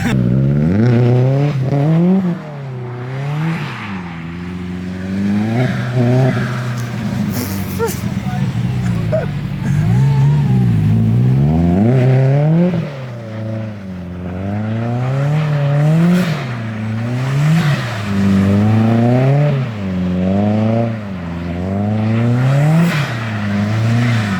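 A Subaru STI drifts in the snow, its engine revving up and down in repeated surging bursts as it slides, loud and close throughout, with people talking over the engine at times.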